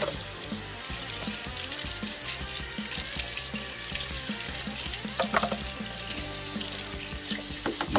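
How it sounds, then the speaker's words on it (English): A top bracket from an Aqueon canister filter is rinsed under a running tap, with a steady rush of water and irregular splashes and knocks as the part is handled in the stream, close by and without speech. "Now we're gonna go and rinse the top, which is the bracket on top here."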